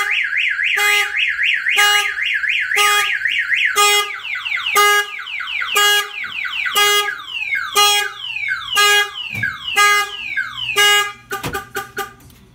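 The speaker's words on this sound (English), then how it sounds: "the alarm system will trigger if the vehicle is hit or any of the doors are pried open." An Autoshield aftermarket alarm on a 2003-2007 Chevy Silverado goes off loudly up close, cycling through pulsing warbling siren patterns and rapid chirping tones before ending in a burst of fast honks.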